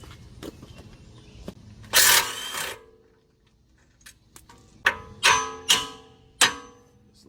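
A bolt being removed from the suspension of a Volvo XC90 during CV axle replacement: short bursts of a power tool, one about a second long then several quick zaps, amid faint metallic clicks and clanks.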